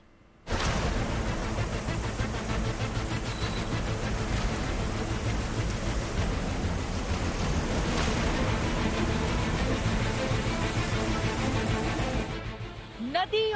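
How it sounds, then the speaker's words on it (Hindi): Heavy monsoon rain brought by a low-pressure system over the Bay of Bengal, a loud and dense continuous roar that holds steady for most of the stretch and then cuts off abruptly near the end. "वजह है भारी बारिश"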